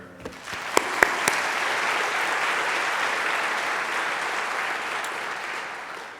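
Audience applause for a staff award winner named Karen at a university State of the University address, a broad sustained clapping from a large crowd with a few sharp claps at the start, fading slightly at the end.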